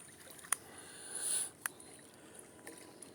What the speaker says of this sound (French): On entend les clapotis de l'Erdre